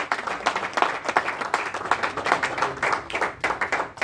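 A congregation claps hands for the Lord during a bilingual church service, a steady run of brisk, fairly even claps repeating about twice a second with no break.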